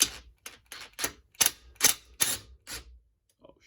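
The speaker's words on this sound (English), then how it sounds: "I'm going to tighten them a little with the impact" Impact wrench tightening bolts on a billet aluminum performance cylinder head, seven or eight short sharp rattling bursts in an irregular rhythm, loud and close, followed by a couple of faint clicks and no talk.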